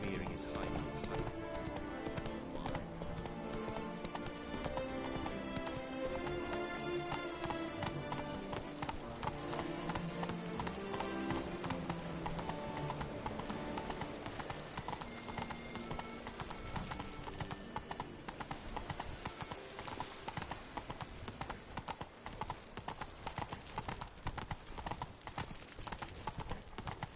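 Roach, the horse in The Witcher video game, gallops with steady rapid clip-clop hoofbeats throughout, layered under game music and occasional voices.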